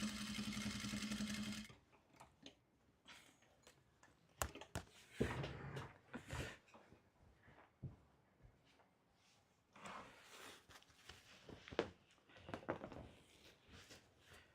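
A home sewing machine stitching a seam on a costume bustier, starting with a steady close whir that stops, then scattered thumps, fabric handling and clattering bursts of short machine runs.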